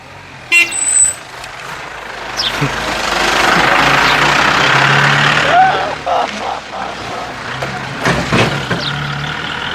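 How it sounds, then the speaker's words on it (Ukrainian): A car or truck passes close by on a busy street at a local market in Luxor, Egypt, with a loud horn toot near the start and engine noise swelling and fading, while people talk nearby. "Мене чуть машина не задавила, так би тут і остався"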